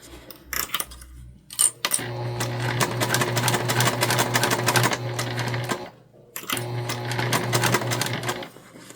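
Home sewing machine stitching flat fabric for a small holiday project, running in two steady whirring bursts of several seconds each, separated by a short pause, with a few handling clicks before the first run.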